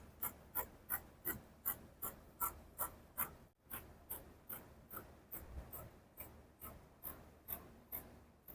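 Fabric is cut with scissors along a marked line for a jumpsuit, a steady series of about twenty crisp, close snips at an even rhythm, briefly pausing once, with no talking.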